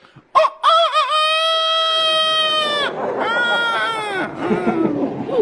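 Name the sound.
voice imitating rooster crowing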